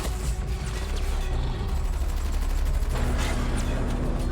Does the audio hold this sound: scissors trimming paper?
no